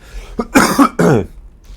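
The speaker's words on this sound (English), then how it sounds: "Stupid cough." A person with a two-week-old cough coughs up close, a few harsh bursts in quick succession, loud against an otherwise quiet background.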